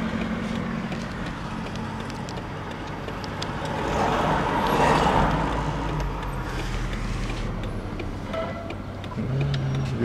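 Steady street traffic in a residential microdistrict of Taraz, Kazakhstan, a continuous low roadway rumble with a louder vehicle swelling past midway and engines droning near and far throughout.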